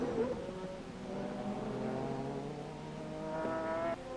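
GT500 race cars in a Japan GT Championship race, including a blue Esso Toyota Supra overtaking, with a high engine note holding steady and then shifting pitch as the cars pass, heard at a distance and fairly quiet.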